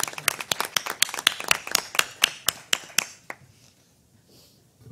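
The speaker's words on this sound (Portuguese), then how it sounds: "pedir uma salva de palmas" A few people clap in a sparse, rhythmic burst for about three seconds at a certificate presentation during a lecture event, then the clapping stops and the room goes quiet.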